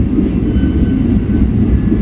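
The Tegal Bahari train rumbles steadily past Jatinegara station in Indonesia, a loud, continuous low roar of the passing train without a break.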